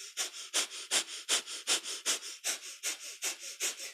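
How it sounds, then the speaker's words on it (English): Breath of fire in kundalini yoga: rapid, rhythmic panting through the nose, about ten sharp sniffing puffs in a steady even beat, close and clear with no talking. "So breath of fire, our panting breath through the nose."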